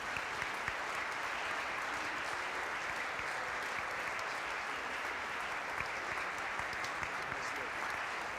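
Steady, dense applause from a concert audience at a high school symphonic band and wind ensemble performance, recognizing honor band students, sustained at an even level throughout.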